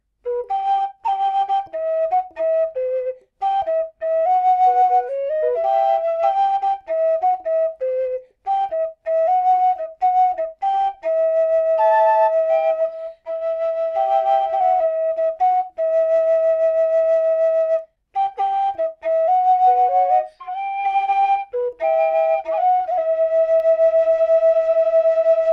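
A tin whistle plays a bright melodic tune with added ornaments and flourishes, phrases separated by short breath pauses, clear and solo throughout.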